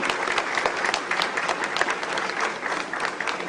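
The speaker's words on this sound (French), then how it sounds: "vous inviter à nouveau à saluer la Côte d'Ivoire par des applaudissements" An audience at a Côte d'Ivoire embassy celebration in France applauds to salute the nation, a steady, dense wash of clapping from many hands that holds evenly throughout.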